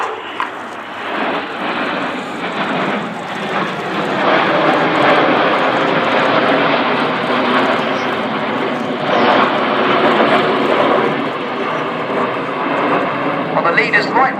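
RAF Red Arrows jets fly the tight Apollo roll in close formation at the RAF Cosford Airshow in June 2013. A loud, sustained jet roar swells and holds across the whole stretch, with a voice heard over it.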